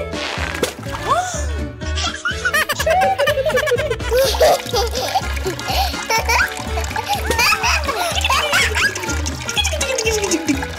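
Water balloons splashing at play, with wet splashes and splatters under lively children's voices and laughter, accompanied by a steady rhythmic background music beat throughout.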